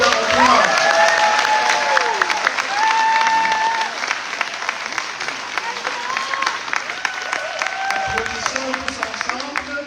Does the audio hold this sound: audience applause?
yes